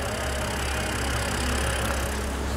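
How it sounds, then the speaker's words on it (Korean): A BMW 528i engine idles with a steady, even hum, close and constant throughout with no other sounds. "해당 차량의 엔진 구동 상태도 영상에 담아 드리도록 하겠습니다"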